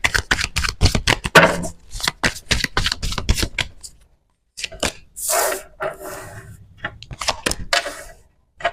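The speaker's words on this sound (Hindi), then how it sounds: "बहुत सारे लोगों को शफल करने की आवाज बहुत ज्यादा पसंद है कार्ड्स की जब शफल होते हैं वो" Playing cards shuffled by hand, a rapid riffle of crisp flicking snaps, a brief pause, then more riffling and soft sliding bursts, close and clear with no talking.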